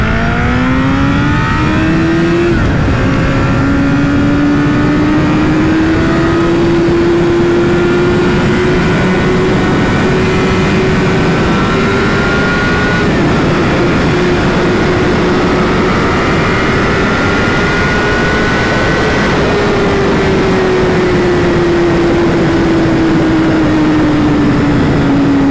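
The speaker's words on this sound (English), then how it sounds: "Let's also go on the highway, because otherwise it's very hard to get a little bit of a glimpse of the power of the motorcycle." Honda CBR1000RR Fireblade SC59 superbike riding on the highway, a loud continuous engine whine rising steadily in pitch through the gears with heavy wind roar, close and dominant for the whole stretch.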